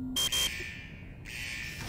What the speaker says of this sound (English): Looks like he set off some sort of alarm in the vault.